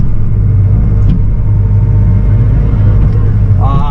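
Bobcat E42 excavator clearing larger trees from land, its diesel engine rumbling steadily and loudly throughout, with brief higher creaks and a rising whine near the end.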